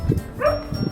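A puppy near grapevines in Greece lets out a short yip or bark, brief and fairly close, among muffled outdoor sounds.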